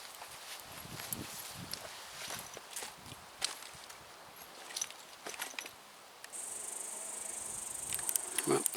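Mosquitoes and black flies buzz outdoors as a steady high whine that grows louder in the second half, mixed with scattered rustling and footstep-like knocks.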